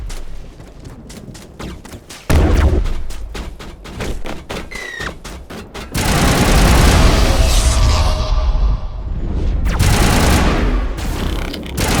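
Rapid gunfire in a Mass Effect battle against the Geth under coordinated crossfire: dense bursts of automatic shots and thudding booms, loud and nearly continuous with brief pauses.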